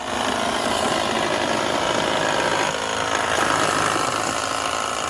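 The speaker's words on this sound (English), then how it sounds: "Do you have a sander or something that can hit the edges?" An electric sander works along the wooden edges of a work desk in a camper van, giving a continuous, close, loud buzzing drone with a slight change in pitch partway through and no talking.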